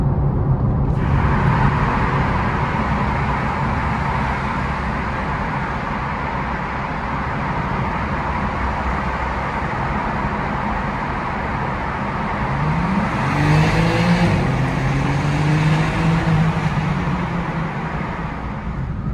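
A 2021 BMW G80 M3 Competition in sport mode drones steadily in a road tunnel, echoing, its engine tone rising as it accelerates near the end.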